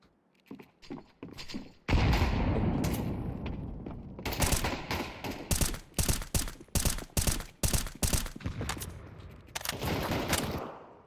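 Gunfire in Counter-Strike: a sharp opening shot, then a long run of loud, rapid automatic bursts, with short gaps between the volleys and one final burst near the end.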